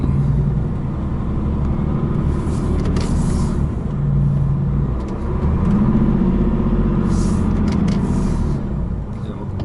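Lorry pulling away near Groningen, a loud, close cab-interior engine drone rising and falling through gear changes, with brief hissy air bursts from the brakes or gearbox.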